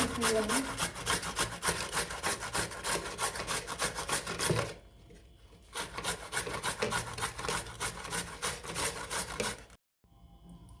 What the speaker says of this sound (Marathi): आपलं हे बीट किसून झालेलं आहे